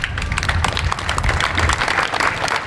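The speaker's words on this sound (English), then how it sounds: "and clapped as the cortege passed by" A crowd of well-wishers lining a street claps steadily as a funeral cortege passes, a dense, continuous outdoor patter of many hands at moderate distance.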